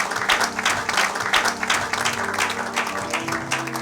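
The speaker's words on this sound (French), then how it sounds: "Acclamons pour la gloire de notre Dieu." A church congregation applauding together during a sermon, dense sustained clapping from many hands filling the room at steady loudness, with a faint sustained musical tone underneath.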